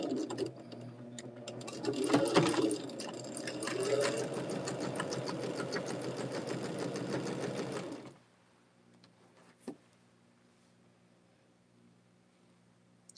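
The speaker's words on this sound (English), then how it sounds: "Take it to my machine and we're going to stitch 1/4 of an inch." A sewing machine runs steadily, stitching quilt block fabric pieces at a quarter-inch seam with a close, fast mechanical whir for about eight seconds, then stops, leaving near silence and a single faint click.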